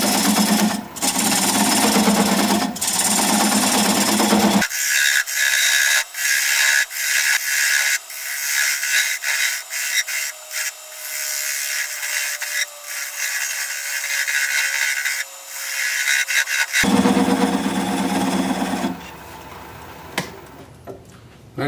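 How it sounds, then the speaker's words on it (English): Wood lathe spinning at about 525 RPM while a 3/8 inch bowl gouge cuts away a tenon, giving a steady, loud, continuous scraping hum with rhythmic ticks. The tone changes partway through and there is no talk. "Going to take a 3/8 inch bowl gouge and commence to removing that tenon."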